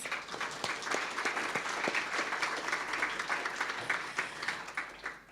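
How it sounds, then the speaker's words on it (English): Audience at a trauma-informed practice symposium in Perth applauding the speakers, a steady, dense wash of many hands clapping throughout with no pauses. "So again, a round of applause for the speakers."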